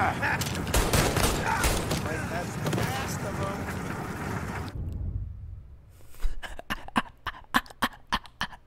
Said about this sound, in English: This man came out with a shotgun.